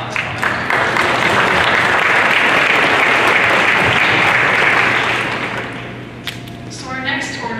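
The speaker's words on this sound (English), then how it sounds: "let's give John a round of applause" An audience at an annual church meeting applauds, with dense, sustained clapping that fades toward the end before a voice speaks.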